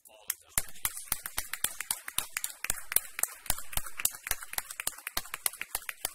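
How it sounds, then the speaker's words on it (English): An audience applauds National Merit honorees at a board meeting, a run of brisk, sharp claps that sound fairly sparse and stay steady for several seconds, with no talking over them. "let's start with a round of applause for all of those"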